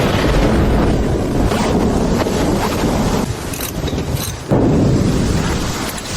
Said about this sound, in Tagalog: Umihip na naman ang hangin.